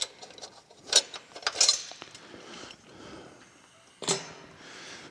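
Metal clinks and ratcheting taps as bolts come out of a Chevrolet Bolt EV battery pack during disassembly, a few sharp close clanks and rattles separated by quiet stretches.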